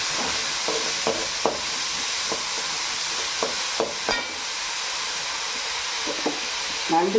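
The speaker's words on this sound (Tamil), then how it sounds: "ரெண்டு வெங்காயமும் போடணும் வெங்காயம் வதக்கலாம்" Large and small onions sauté in a pan for crab gravy, giving a steady loud sizzle with scattered clicks and scrapes as they are stirred, and no talking.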